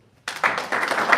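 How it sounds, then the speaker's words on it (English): An audience at a reception for service academy nominees bursts into applause after a brief silence, the clapping starting abruptly and continuing densely and moderately loud. "let's everybody else give them a round of applause too"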